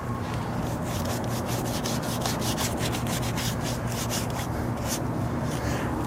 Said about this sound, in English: Not scrubbing hard, I'm just basically trying to work out the bugs from the cracks rather than push them back in.